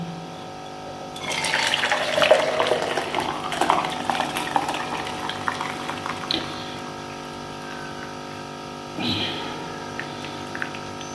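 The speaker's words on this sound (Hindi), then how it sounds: "तो हम ये छानने लगे हैं" Kashmiri pink tea being strained in a kitchen: steady liquid pouring and trickling through a strainer over a constant hum. A louder splash comes early, and a brief gurgle comes near the end.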